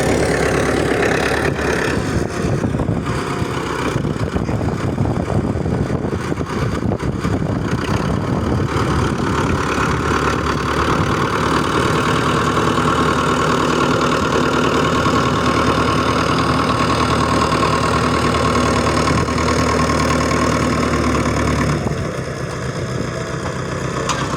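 A vehicle engine runs loudly and close by for a long stretch, a steady droning rumble with some rough knocking texture that fades slightly near the end, with no voices.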